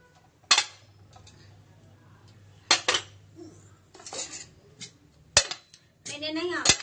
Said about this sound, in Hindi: मुझे बर्तन धोना है